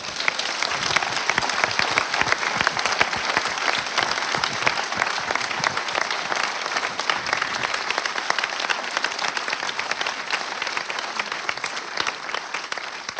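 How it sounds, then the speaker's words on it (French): Long, steady audience applause in a cinema hall for the actors of the film Patients at a post-screening discussion, dense crowd clapping at a constant level throughout. "donc vous pouvez les applaudir très fort"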